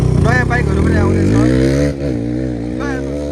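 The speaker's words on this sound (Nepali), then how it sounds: "यसरी कुन्छ हाम्रो बाइक" A 250cc motorcycle, a Hero Xpulse, revs with rising and falling engine pitch close by while someone talks over it throughout.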